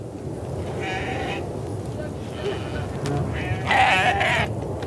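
Four goats are loaded onto a desert iron-ore train in the Mauritanian Sahara, giving several bleats of moderate loudness, the loudest near the end, over constant rumbling outdoor background noise.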